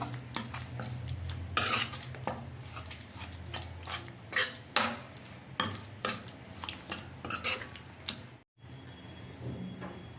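Andhra-style tomato pickle being stirred in a pan, with repeated scraping and clinking of a spoon against metal in an irregular rhythm, close and moderately loud, with a low steady hum underneath.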